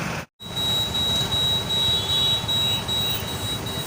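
Heavy road traffic heard from among the vehicles, a dense continuous rumble of engines with a steady high whine running through it, loud and close, briefly cut out near the start.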